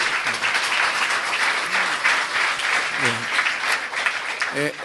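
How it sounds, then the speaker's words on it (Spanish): A church congregation applauds during a Bible question-and-answer service, a loud, dense wash of clapping that runs throughout while brief voices cry out over it now and then. "Un aplauso al Señor por eso."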